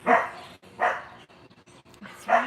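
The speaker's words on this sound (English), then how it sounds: "She's barking at birds." A pet dog named Sweetie barks three times at birds, each bark sharp and fairly close, with short quiet gaps between them.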